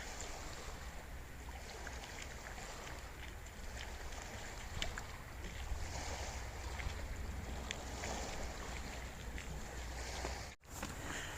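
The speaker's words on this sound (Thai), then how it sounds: "ได้ยินเสียงคลื่นซัดฝั่งไหมคะ" Sea waves wash onto a beach near Tromsø, Norway, in a continuous rushing surf roar with gusts of wind on the microphone and a brief dropout near the end.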